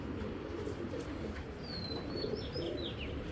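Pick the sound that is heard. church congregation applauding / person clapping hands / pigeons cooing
pigeons cooing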